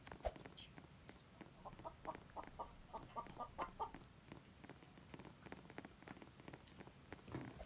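Clucking, purring creature calls from the chicken monster in the horror game Floppy's Playtime, a run of short rhythmic bursts in the middle, moderately loud over a faint game background, with no talk.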